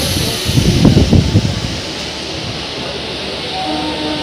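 A crowded local train rolls out on the Santragachi to Howrah line in the South Eastern Railway, loud rumbling and rattling wheels over the track with steady hiss and carriage noise.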